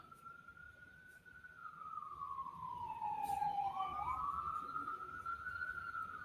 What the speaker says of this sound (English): Pretty sure it's an ambulance.